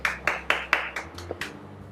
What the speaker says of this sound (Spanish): Dale un aplauso a su nombre